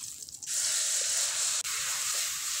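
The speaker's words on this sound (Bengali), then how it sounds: "পেঁয়াজটা আমি ভেজে নেব।" Onion paste drops into hot oil already seasoned with bay leaf, dried red chillies and whole cumin, and a loud, sustained sizzling hiss erupts, close and continuous with one brief break.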